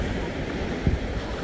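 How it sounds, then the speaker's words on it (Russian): Wind rushes steadily past outdoors in Italy, a broad low roar with a brief gust-like bump partway through. "Ой, ветер начался."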